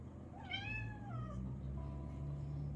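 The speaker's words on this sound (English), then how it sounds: "My cat's at the bottom of the stairs, whining at me." A pet cat meows and whines from the bottom of a staircase, one drawn-out rising-then-falling cry heard close and clear in a quiet room, with no talking.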